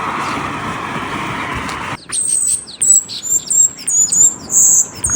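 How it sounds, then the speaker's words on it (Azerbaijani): Birds chirping outdoors in Shuvalan, Azerbaijan. After a couple of seconds of muffled background noise, a series of bright, high, quick tweets repeats in short clusters, fairly close and clear, with no talk. "Qızlar, bu nə quşdur?"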